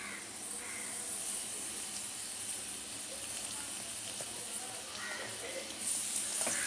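Black pomfret fish sizzling in hot oil in a heated pan, a steady close hiss and spitting crackle that swells slightly toward the end.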